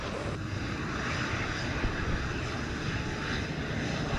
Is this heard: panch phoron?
no